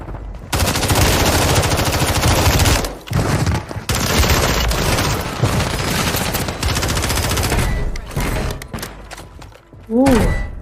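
Gunfire in Call of Duty Warzone: loud, sustained automatic bursts fired close, broken by short pauses and ending in a final burst.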